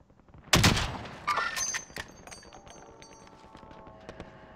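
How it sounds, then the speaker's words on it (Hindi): Gunfire in Call of Duty Warzone (Modern Warfare) gameplay opens with a loud close shot, followed by a second burst and fainter scattered shots and game effects, with no talking. "आओ उधर आओ फायरिंग हो रहा सब पे।"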